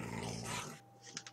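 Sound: dog growling in Minecraft video game

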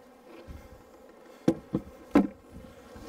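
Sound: honey bees buzzing, knocked into a hive box

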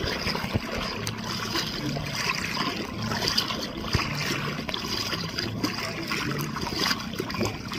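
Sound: sea water while swimming

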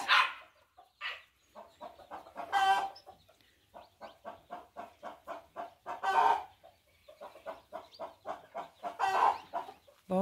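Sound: chickens clucking in a farmyard

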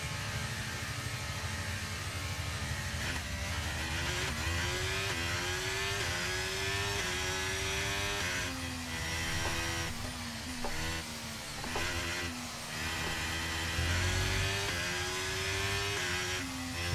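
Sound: race car engine in the F1 23 video game

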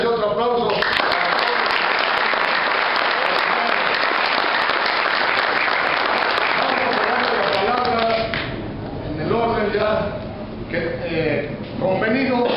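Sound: audience applause

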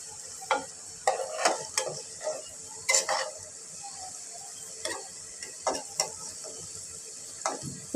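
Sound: fritters frying in oil

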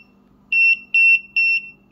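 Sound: RF signal detector beeping

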